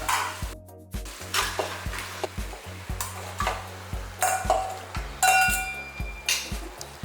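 Three kilos of mutton with ground masala sautéing in a pot for mutton kuzhambu, with a soft sizzle under repeated rhythmic scrapes and knocks of a ladle against the metal pot, close up and without talk.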